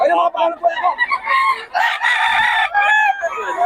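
A pumpkin gamefowl rooster crows loudly at close range, its drawn-out call mixed with clucking from other chickens at a busy fowl market.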